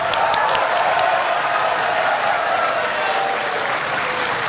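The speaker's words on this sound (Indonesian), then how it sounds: "Kita tepuk tangan." Dense, steady applause from a large audience at a 2014 Indonesian presidential debate between the Prabowo–Hatta and Jokowi–Kalla tickets, a continuous roar of clapping filling the hall for several seconds.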